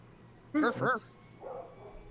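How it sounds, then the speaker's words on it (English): A dog gives two quick, loud barks close by, followed by a softer whimpering yelp amid low background noise. "Vicky, look, a dog."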